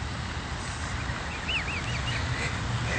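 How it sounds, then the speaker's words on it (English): Ducks quack faintly at a distance, a few short calls rising over steady outdoor wind and low rumbling noise. "oh, here are the ducks."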